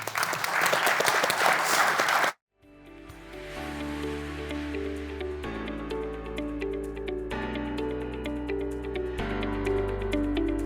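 Loud audience applause for a conference panel fills the first couple of seconds, then cuts abruptly to music playing on to the end.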